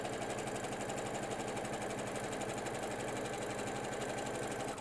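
A sewing machine stitches quilt fabric for a jelly roll race quilt, a steady rapid mechanical whir and needle chatter running continuously and close at even loudness throughout, with no speech.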